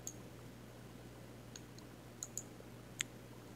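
Computer mouse clicking in a desktop app, a few sharp, faint clicks scattered irregularly over a quiet background hum.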